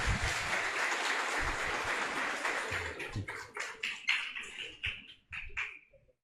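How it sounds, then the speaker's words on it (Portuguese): A small gathering claps to welcome a doctor to a medicinal cannabis class. The steady, fairly faint applause breaks up into scattered separate claps and fades out. "Chegou a médica, uma salva de palmas aqui"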